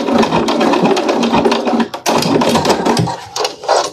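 A sewing machine runs a topstitch on a zippered pouch, its rapid steady stitching loud and close, pausing briefly before resuming in short bursts.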